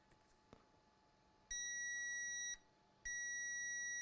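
A multimeter in diode mode beeps across a dead short on an ASUS board: two steady, piercing electronic tones, each about a second long, separated by a brief gap, loud and clean over faint background.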